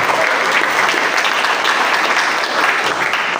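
An audience at a university public lecture on law applauds a speaker, producing loud, dense, sustained clapping that fills the hall without pause.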